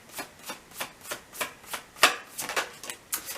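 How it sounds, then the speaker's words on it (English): Tarot cards being shuffled by hand, a rhythmic series of about a dozen crisp riffling swishes at a steady pace, close and clear with no talk. "Let's shuffle this up a little bit."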